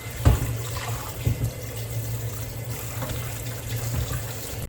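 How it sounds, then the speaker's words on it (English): Tap water runs steadily into a sink while a pan is rinsed clean during Bak Kut Teh pork broth preparation, a continuous splashing wash with a few louder surges near the start, close by and with no talking. "You also want to wash out the pan to get rid of impurities."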